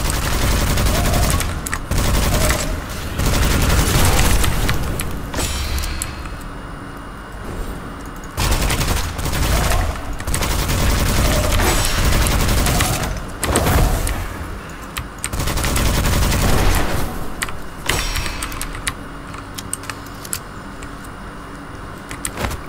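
Submachine-gun fire in the dark fantasy shooter Witchfire, loud repeated bursts with rapid rattling shots, separated by brief pauses and mixed with other game sounds; no talking.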